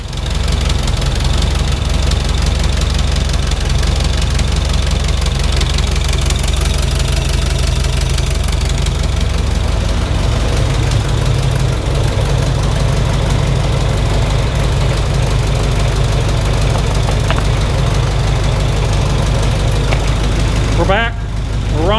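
A forklift engine, freshly running after a carburetor overhaul, idles loudly and continuously with a rough, knocking throb that holds steady throughout, ending with a brief rattling sputter.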